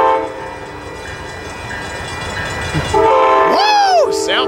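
Locomotive 190 rumbles past Carlsbad Village Station, its loud rolling noise rising as the horn blares with a bending, multi-tone chord near the end.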